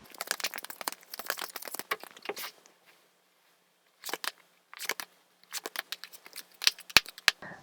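Tarot cards being shuffled and handled close up, crisp papery flicks and rapid riffling bursts separated by short silences, ending with a few sharp taps.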